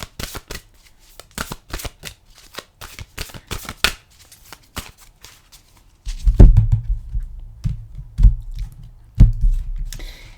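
Oracle cards are shuffled by hand in a quick series of crisp riffles and flicks for several seconds, followed by softer, heavier handling and tapping of the deck. No one speaks.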